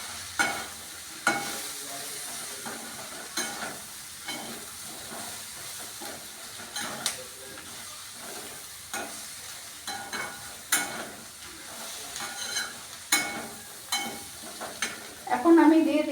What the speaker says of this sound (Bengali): এটা আমি আবার মশলাগুলো যাতে একসাথে মিশে যায় ওই জন্য আবার একটু নাড়াচাড়া করছি।